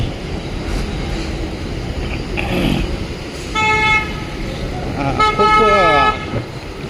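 Busy ambience at the Mela bus stand in Nashik, with engine rumble and traffic under several sharp vehicle horn toots near the end, while someone talks throughout.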